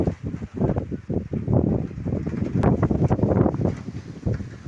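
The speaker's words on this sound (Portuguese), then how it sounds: "Aumentou o vento e agora tá sendo já uma tempestade, hein?" Strong, gusting wind from an approaching rainstorm buffets close and loud, rising and falling in rough surges with no talk.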